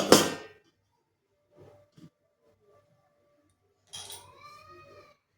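A metal plate is set onto a hot pan and covered while crispy flour biscuits cook: one sharp metallic clatter, a few faint taps, then a second ringing clang near the end.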